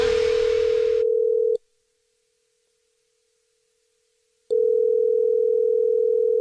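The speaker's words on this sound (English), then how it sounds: "It's another Jubal phone prank" A telephone dial tone hums steadily at the start of a prank call on a radio morning show, cutting out for about three seconds and then resuming, loud and clear with no talk.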